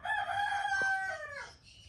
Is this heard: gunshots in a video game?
no